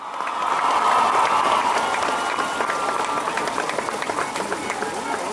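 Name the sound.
crowd applause for the Leones de Yucatán baseball team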